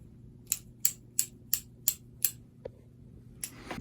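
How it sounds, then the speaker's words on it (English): Scissors snip through keyboard packaging during a Razer BlackWidow unboxing: six sharp, evenly spaced cuts close up, a short pause and a small click, then one more snip at the end. "There's a pair of scissors right there."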